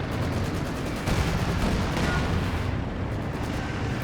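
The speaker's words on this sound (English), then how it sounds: "Now I've got the artillery flares coming in." Artillery fire in Company of Heroes 2: a dense, continuous roar of booming shellfire and rumbling blasts, loud and unbroken throughout with no talk.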